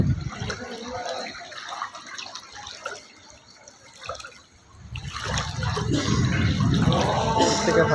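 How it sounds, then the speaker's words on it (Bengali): Fast-moving rainwater floods a Dubai street and shop, rushing and splashing steadily and growing louder toward the end, with voices in the background. "বিরাট, তার তো পানির স্পিড অনেক।"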